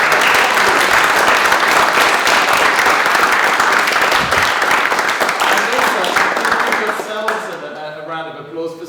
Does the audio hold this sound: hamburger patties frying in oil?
no